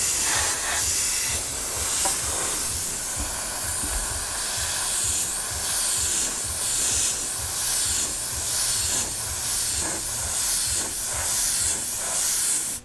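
Aerosol spray paint hisses steadily and close up as a part for a Tamiya Volvo FH12 1/14 scale RC truck kit is sprayed on a workbench, with the long continuous spray broken by short pulses.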